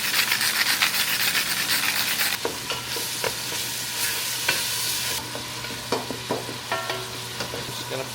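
Fatty 75-25 ground beef sizzles loudly in a pan with salt and pepper, a steady frying hiss punctuated by repeated scraping stirs and clinks of a utensil against the pan.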